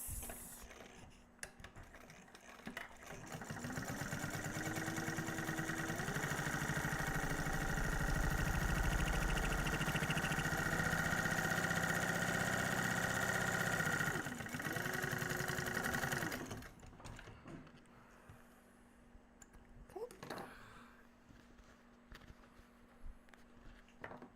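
A sewing machine stitching a Blue Calla Tumbleweed pattern runs in a long steady whirring stretch of about fifteen seconds, close and fairly loud, with brief slower bursts and quiet handling afterward, no talk.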